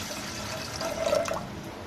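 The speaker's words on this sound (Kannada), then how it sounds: "ಸ್ವಲ್ಪ ವಾಟರ್ನ ಹಾಕೋತಾ ಇದ್ದೀವಿ" Water poured into a pot while cooking ragi mudde, a short close trickling and splashing of liquid lasting under two seconds.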